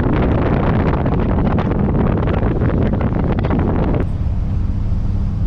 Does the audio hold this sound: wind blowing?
yes